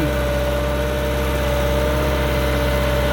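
An old Kobelco SK045 excavator engine runs steadily at idle, a loud, close, continuous low diesel rumble with a faint mechanical hum and no voices.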